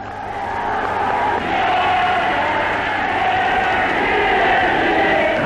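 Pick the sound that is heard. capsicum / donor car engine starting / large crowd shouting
large crowd shouting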